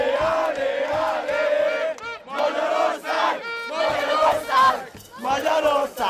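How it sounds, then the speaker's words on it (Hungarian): Large crowd of football fans celebrating in a city square at night, roaring and chanting in loud rhythmic bursts with short pauses between waves of shouting. "A tömeg a nyugati téren gyűlt össze."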